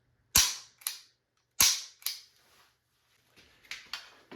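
Sharp dry clicks from an unloaded handgun being dry fired: two crisp snaps, each followed by a softer click, then a quieter cluster of small mechanical clicks, close and with no voices.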